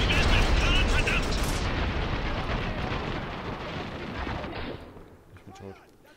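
Heavy gunfire and booming explosions in the video game Spec Ops The Line, a loud continuous barrage that gradually fades out toward the end.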